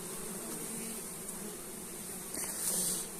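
Honey bees buzzing around a hive being treated for varroa mites, a steady soft hum of many insects with a faint hiss, continuous and close.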